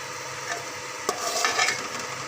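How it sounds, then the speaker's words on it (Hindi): Onion, tomato, garlic-ginger paste, cumin and spices frying in a pot for chickpea pulao, a close steady sizzle with brief stirring scrapes of a spoon, no talk. "ये सब डाल के तो मैंने अच्छी तरह से भून रही है"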